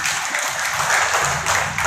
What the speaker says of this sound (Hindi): शख्सियत के लिए जोरदार ताली होनी चाहिए